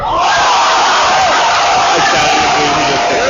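Basketball crowd in a gym roaring and cheering loudly after a late-game shot, a dense, sustained wall of voices close and continuous throughout.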